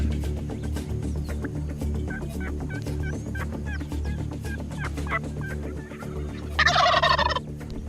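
Rio Grande wild turkeys gobble repeatedly in an open ranch setting during a hunt, the calls carrying over steady background noise, with one loud, close gobble bursting out near the end.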